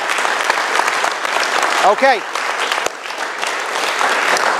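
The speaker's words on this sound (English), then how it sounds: "Have a nice round of applause for them as well." Town hall audience in Berne, New York applauds veterans, steady clapping throughout with a voice briefly speaking over it midway.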